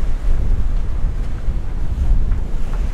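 Strong 25-knot wind roars across a sailing boat moving fast under genoa at about eight knots, a steady, loud, low buffeting rush with no voices.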